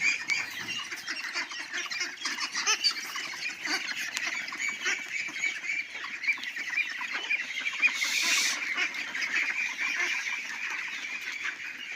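Ducks on a farm quack and chatter continuously in a dense, close flock, with a brief burst of noise partway through.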